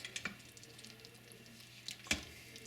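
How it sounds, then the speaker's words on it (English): Quick stir of hot rice and beef mechado stew inside an Instant Pot IPDUO60 electric pressure cooker, soft wet squishing and a few light scrapes and taps, faint and close. "So let me do a quick stir."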